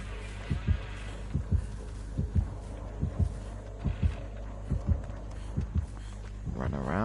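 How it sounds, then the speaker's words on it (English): Heartbeat effect in the horror game Dead by Daylight during a Halloween match: steady, loud double thumps pulse rhythmically throughout, with a faint background hum and a rising swell near the end. "And I hear that god dang heartbeat."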